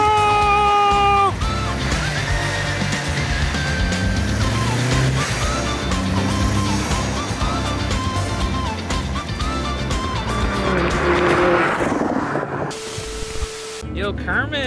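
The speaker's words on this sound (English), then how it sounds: "racing my Lamborghini in a racing game in VR" A Lamborghini engine roars in a VR racing video game, the tone rising and falling through gear changes, with a hissing squeal of tires near the end. The sound is loud and steady and fills the whole stretch.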